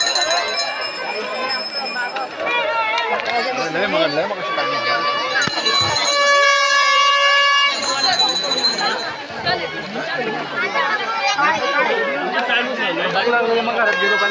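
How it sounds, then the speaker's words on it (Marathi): A large, dense crowd of devotees chatters at a busy pilgrimage gathering, many voices overlapping into a steady loud murmur, with a brief ringing bell-like tone partway through. "खूप गर्दी आहे इकडे."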